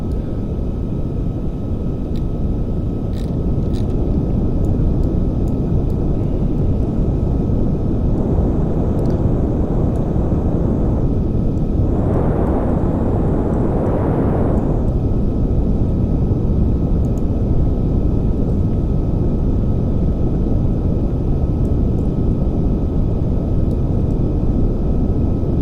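Rocket engine firing during a powered landing in Kerbal Space Program, heard as a loud, continuous broadband roar that stays steady throughout, with a few brief swells in the middle.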